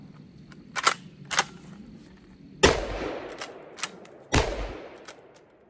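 Remington 2 3/4 inch high brass 6 shot duck and pheasant loads fired from a shotgun: two loud, sharp blasts with long decaying tails, alongside fainter clicks and clacks of the action.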